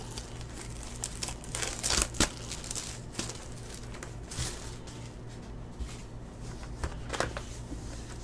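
Crinkling and tearing of plastic wrappers and cardboard as a 2021 Topps F1 Racing hobby box of trading cards is opened, close up, with a few sharper rips and rustles scattered throughout.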